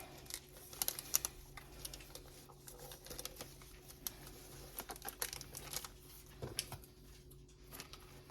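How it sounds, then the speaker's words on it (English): A plastic piping bag crinkles softly as curly ribbon is tied around its top: quiet, irregular rustles and crackles close by, with no talking. "Now I'm going to just tie my ribbon around the top of my piping bag."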